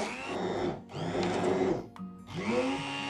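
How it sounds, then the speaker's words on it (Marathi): A kitchen blender churns milk cream into butter, whirring loudly in close bursts with two brief pauses where the motor stops and restarts. "मी तुम्हाला या ब्लेंडरने दाखवते कसं 2 मिनिटातच हा गोळा तयार होतो."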